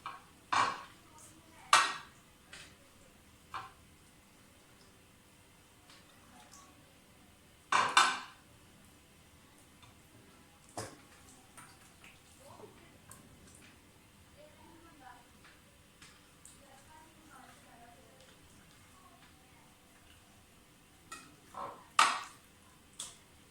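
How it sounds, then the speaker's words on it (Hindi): A knife cuts slits into chicken pieces for chicken tikka, producing sparse, sharp clicks and knocks against a cutting surface, a few louder strikes scattered among faint scraping, while someone talks. "इसी तरह से सारे चिकन को कट लगा के रख लें।"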